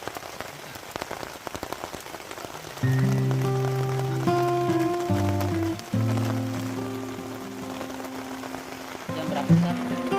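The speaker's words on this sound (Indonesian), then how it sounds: "mulai terasa tetesan-tetesan air hujan" Raindrops patter on surfaces at a mountain campsite around dusk, a steady scattered tapping throughout, joined by sustained tonal humming or singing-like voices partway through.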